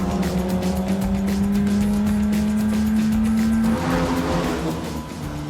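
A Jaguar XKSS's 3.4-litre straight-six engine, rated at 262 brake horsepower, revs up in a single loud, continuous climbing run, then briefly drops and rises again as the car accelerates close by between echoing walls.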